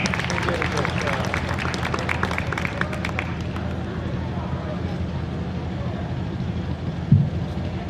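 Outdoor applause at a classic car concours award presentation, a scattered crowd clapping briefly under a steady wash of open-air ambience, fading quickly while an announcer keeps talking through it.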